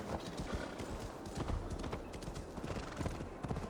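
Horse hooves clip-clopping in Assassin's Creed Valhalla, a steady rhythmic trot with occasional snorts or whinnies, set against a continuous in-game ambient bed at fairly low volume.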